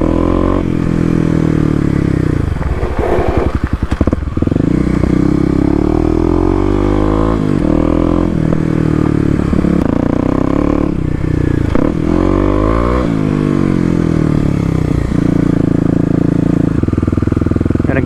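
A Kawasaki KLX250 motorcycle rides a rutted off-road dirt trail, its engine close and loud, revving up and down repeatedly with rising and falling pitch, along with brief clatter and scraping.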